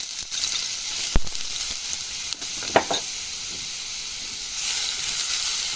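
Ginger garlic paste sautés in a hot pan with a steady soft sizzle, broken by a few sharp clicks of a spoon against the pan, close and moderately quiet.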